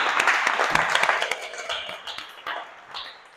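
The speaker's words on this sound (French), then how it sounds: "Applaudissez." Schoolchildren on a pedagogical visit to the Abdoulaye Wade stadium in Diamniadio clap together, a close, dense burst of applause that fades over a few seconds into scattered claps with faint voices behind.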